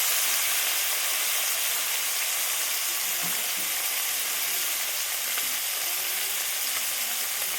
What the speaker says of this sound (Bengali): আমার তেলটা গরম হয়ে গেছে আমি এবারে মাছগুলোকে দিয়ে দিচ্ছি